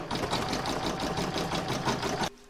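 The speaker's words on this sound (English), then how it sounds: "I'm now going to pop that back in my machine and stitch round number five." A sewing machine stitching a round of a fabric bauble, a loud, fast, even mechanical whirr of needle strokes running steadily close by, then stopping abruptly near the end.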